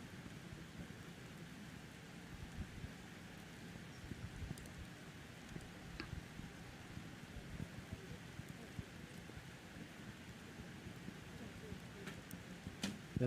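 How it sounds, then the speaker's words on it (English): Steady rain pours down at an outdoor archery world championship recurve men's team match, Indonesia against Ukraine, a dense, even hiss that persists throughout with faint voices low beneath it. "You can hear the rain coming down now."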